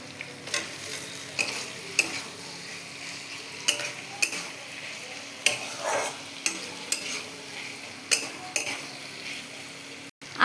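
Soya chunks frying in oil for chilli soya, a steady sizzle broken by sharp clinks and scrapes of a spoon against the pan at irregular intervals, close and moderately loud.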